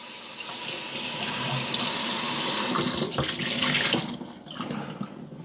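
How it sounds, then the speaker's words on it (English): Tap water runs steadily into a sink while a glass piece is rinsed, a close, continuous splashing rush that swells and dips slightly as the glass is moved under the stream. "dump it out, rinse it with water"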